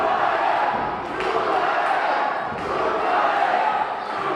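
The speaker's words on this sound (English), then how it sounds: "The crowd chanting Bomaye." A wrestling crowd in an arena chanting Bomaye, a loud, rhythmic roar of many voices rising and falling steadily without pause.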